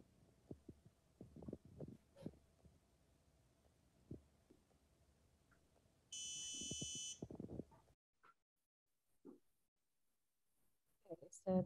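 A baby monitor alarm switches on, a loud steady buzzing tone lasting about a second, preceded by low thumping and rustling handling noises and followed by near silence with faint clicks.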